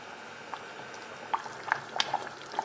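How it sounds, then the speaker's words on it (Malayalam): Water coming to a boil in a pressure cooker for chicken biryani, with a soft steady bubbling bed broken by scattered small pops and plops, fairly quiet and close, with no talk. "ഇത് തിളച്ചിട്ടുണ്ട്."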